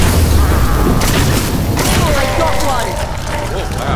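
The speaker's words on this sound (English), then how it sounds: "Looks like eating those grenades head on is real bad" Grenade explosions in the video game Nosgoth make a dense, loud roar of blasts and rumble that runs steadily throughout, with voices talking underneath.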